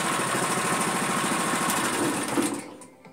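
A Toyama TE70 motor pump's small gasoline engine runs loud and close with a fast, buzzing rattle, holding steady and then dropping away toward the end.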